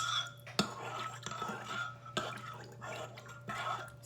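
A henna, amla and shikakai paste is stirred in a bowl to break up chunks, soft wet squelching and scraping with a few clear taps of the spoon against the bowl, close and quiet.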